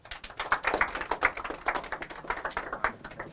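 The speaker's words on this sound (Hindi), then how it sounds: "उसके ताली मार दो।" Students in a classroom clap rapidly and unevenly, a dense run of sharp hand claps that keeps going steadily at moderate loudness.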